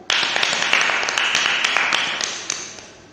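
Loud, dense clapping from a church congregation welcoming God during an Easter service, steady and close throughout with sharp individual claps standing out.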